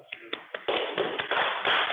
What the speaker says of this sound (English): Everyone else will get a applause.